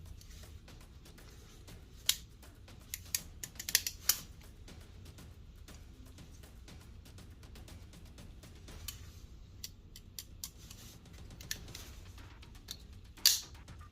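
Wingman EDC scissors snip through material in a few sharp, quiet clicks, some clustered together and others spaced apart, over a low, near-silent background.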